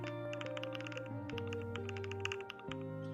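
Quick bursts of keystrokes clatter on a computer keyboard, close and fairly quiet, tapping in an irregular run over a low steady hum.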